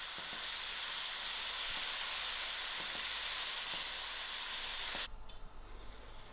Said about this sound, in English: I'll allow this mince to fry till its fat are melted out.